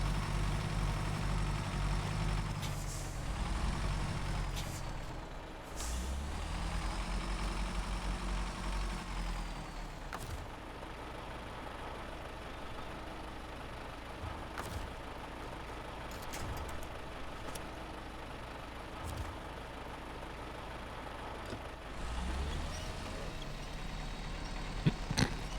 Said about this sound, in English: It doesn't sound like a proper truck kind of engine.